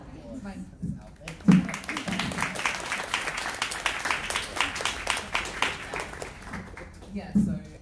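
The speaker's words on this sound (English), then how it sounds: "We have a round of applause for this outfit." A small audience claps for an outfit at a talk on trans allyship; scattered clapping swells and fades over several seconds with voices mixed in.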